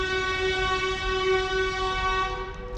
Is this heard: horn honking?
yes